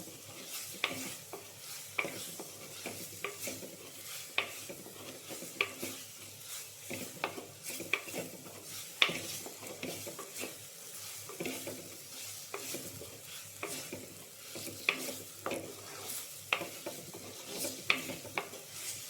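Spice powders roasting in a pan for a curry of okra, toor dal and raw mango, stirred steadily with a spoon, with a soft sizzle and frequent sharp scrapes and taps of metal against the pan, close and alone.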